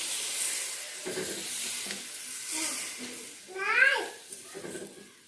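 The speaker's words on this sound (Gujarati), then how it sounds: "ગરમા ગરમ વઘાર આપણે આપણા ઢોકળા ઉપર નાખી દઈશું" Sizzling hiss of hot tempering with asafoetida poured over dhokla, with a sharp burst of crackle midway and softer spattering around it.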